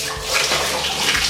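Warm water poured from a cup splashes and runs over shampooed hair during a rinse, a steady close wash of trickling and splashing with no voices.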